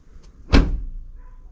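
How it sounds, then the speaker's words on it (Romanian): The door of a Dacia Spring electric car is shut firmly, a single heavy thud at close range followed by a short quiet settle. "în momentul în care vrei să închizi ușa, nu se mai închide ușor. Trebuie să dai mai tare un pic cu ea."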